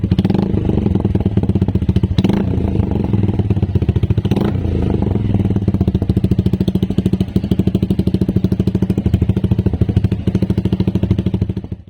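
A Suzuki Gixxer motorcycle fitted with an Akrapovic full exhaust runs steadily at idle close by, giving a continuous deep, pulsing burble with a couple of brief blips, alone and with no talk.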